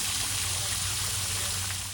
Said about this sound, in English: some of the waterfalls that normally wouldn't be falling are today